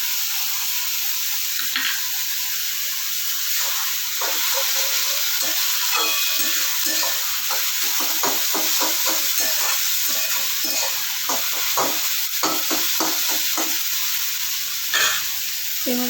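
Green chili paste sizzling and frying in a pan for a Bengali kalmi hilsa fish curry, a steady close hiss with scattered stirring scrapes and crackles throughout, no talking.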